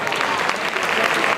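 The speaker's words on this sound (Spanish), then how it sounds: "Un aplauso para ellos." A brief burst of audience clapping for a band at a Santa Cecilia music competition, dense and even, heard close and fairly loud with no pause.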